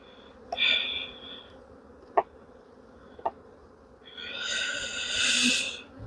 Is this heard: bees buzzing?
yes